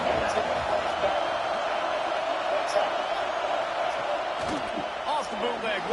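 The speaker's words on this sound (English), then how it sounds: "This crowd ready to make its presence known" A College Football video game stadium crowd roars as a dense, continuous wash of cheering at a distance, steady in volume throughout with no clear voices standing out.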